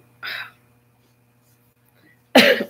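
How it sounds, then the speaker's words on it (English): Two short, harsh bursts of coughing about two seconds apart, close and fairly loud, with quiet in between. "about to have a coughing fit"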